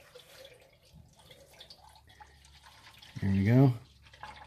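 Engine oil draining from a WW2 Willys MB jeep, a faint low trickle and drip in the background that is mostly covered by a short burst of nearby speech.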